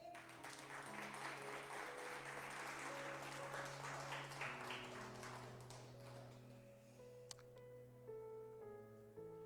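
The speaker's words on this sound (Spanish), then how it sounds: "Yo le daría palmas al Señor." Applause from a church congregation, a steady wash of clapping that runs the whole stretch under sustained organ or keyboard tones, fairly quiet and distant.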